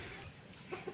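Chickens and roosters clucking in a rural yard, a steady low flock murmur with two short, louder clucks near the end, fairly close.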